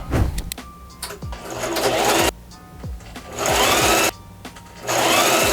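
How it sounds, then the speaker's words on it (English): A sewing machine runs in several bursts of rapid mechanical stitching on fabric for a balaclava, with brief quiet pauses between runs. "let's grab all this stuff and take it back to the sewing machine"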